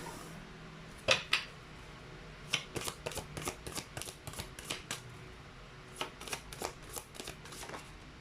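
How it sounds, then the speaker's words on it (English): Chinese fortune cards shuffled and pulled from the deck, a quick run of crisp riffling flutters and soft slaps, close and fairly quiet, with no talking. "let's pull up your Chinese fortune cards"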